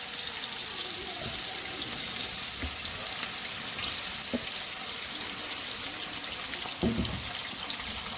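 Fish frying in a pan beside onion and green chili gives a steady, faint, continuous sizzle with a watery hiss, a few soft clinks of utensils, and no talking.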